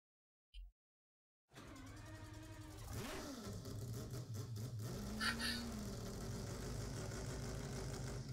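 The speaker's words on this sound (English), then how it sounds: "you can hear the engine sound of the car that you're going to be driving in when it does this load screen" Car engine on a GT Sport load screen, starting after a short click and silence: a steady idle hum that swells into a few revving rises and settles back, moderately loud and alone.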